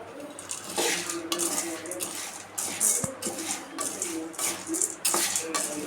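Cardamom and roasted gram dry-roasting in a pan on low heat, stirred with a metal spoon that scrapes and clinks against the pan in repeated bursts, with a faint voice in the background.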